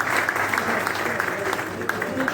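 An audience applauds to welcome the press club president at an interfaith program in Lahore, a continuous, dense patter of clapping from a crowd.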